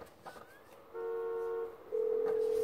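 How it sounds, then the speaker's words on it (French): A car horn in the game GTA 5 honks twice as a steady tone, the first blast lasting under a second and the second louder and held to the end, with faint game ambience between them. "j'ai pas changé mon klaxon de véhicule"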